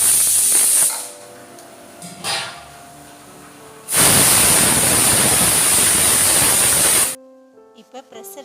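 A pressure cooker on the stove vents steam while goat head gravy cooks, giving loud sustained hissing whistles with a brief gap between them and quieter kitchen clatter at the end.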